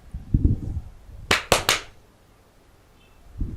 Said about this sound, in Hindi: मैं इसको ताली बजाकर 3 बार एक्टिव करूंगा इस एप्लीकेशन को